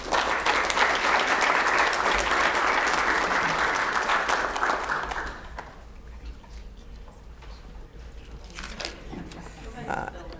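Applause at a city council meeting, a room of hands clapping steadily for about five seconds before dropping away to quiet room noise, shuffling and a few faint voices.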